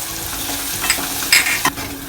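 Gram flour (besan) and onion fry in oil in a pan for a rassa with aloo bonda, a soft sizzle under a few scraping stirs of a spoon, close and alone.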